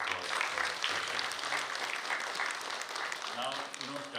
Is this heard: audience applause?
yes